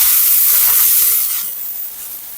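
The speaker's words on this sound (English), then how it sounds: "I wonder if this air hose will take this plastic off." An air hose blasts a loud, close hiss of compressed air against plastic on an F150 battery, strong for about a second and then tapering off.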